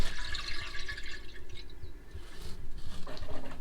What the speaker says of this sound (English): there should be some water going in there.